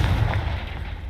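Confringo blasting spell explosion in Hogwarts Legacy, a heavy, booming low rumble sustained through a short moment and slowly fading, with no voices over it.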